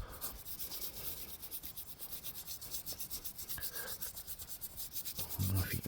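Black dirt is being scrubbed off the face of a 17th-century gravestone with a brush, giving a close, rhythmic, rasping rub of repeated strokes throughout, with no talking.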